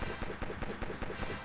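Gunfire from the PS2 video game The Sniper 2, a rapid regular series of sharp muffled game shots at a steady rhythm, fairly quiet and with no talk.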